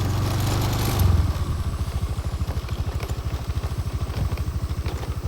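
A motorcycle putters slowly along a forest trail, its close engine beating in a steady, rapid chugging pulse after a brief louder surge, with no talking.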